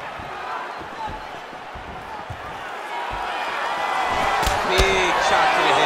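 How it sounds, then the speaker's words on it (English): Video game arena crowd in UFC 5 cheering a stand-up exchange in a mixed martial arts bout, a steady broad roar that swells toward the end, with sharp impact thuds of strikes and a commentator talking over it. "Yeah, the crowd loves the stand-up fight."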